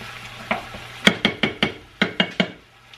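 Ground chuck hamburger frying in a pan, with a spatula or spoon scraping and stirring in a quick series of about nine sharp strokes over a low, steady sizzle.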